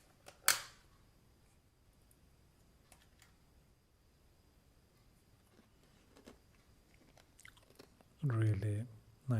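Crunchy butterscotch-flavored snack bites chewed near the mic, a sharp crunch at the start and a loud burst of crunching near the end, with quiet gaps between.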